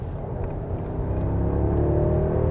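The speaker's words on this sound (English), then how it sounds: "Nice sound from this V8 engine" Heard from inside the cabin, a new Mercedes S-Class (223) with a V8 engine accelerates from 80 to 100 km/h. A steady low engine hum and road rumble build gradually, with a faint rising whir and no speech.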